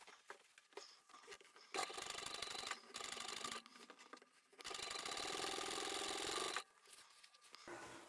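A sewing machine runs in bursts while top stitching a patchwork boxy bag of upholstery fabric samples, with loud steady motor whirring between pauses and a softer rubbing handling noise.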